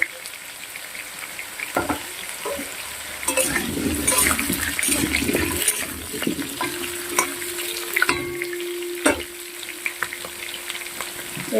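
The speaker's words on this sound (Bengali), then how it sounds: "এবার দেখো আলুগুলোকে ভেজে নিচ্ছি" Whole and cut potatoes crackle and sizzle loudly in hot mustard oil, with bursts of spattering, a clatter as they go in and stirring scrapes, while a faint tone hums beneath.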